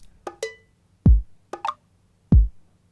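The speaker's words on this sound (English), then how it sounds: "Drums and Percussion Acoustic Drum Kit's Studio Brush Kit." Studio brush drum kit percussion from Logic Pro X, a sparse pattern of soft brushed snare swishes alternating with two deep, booming kick hits, close and dry over about three seconds.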